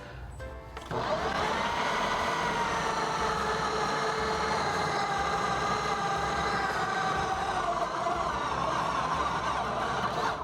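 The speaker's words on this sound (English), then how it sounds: "So this food processor does have a dough setting." A food processor on its dough setting kneads pizza dough for a thin crust, giving a loud, continuous motor whine with a strained, labouring tone that starts abruptly and runs steadily up close.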